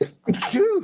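A single sharp human sneeze close to the microphone, a brief burst followed by a voiced exhale, with a short spoken word right after.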